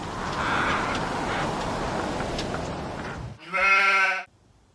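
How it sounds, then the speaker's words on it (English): A sheep bleats once, loud and close, a drawn-out wavering cry that cuts in after several seconds of steady rushing background noise and ends abruptly in near silence. "why did it make a sheep sound?"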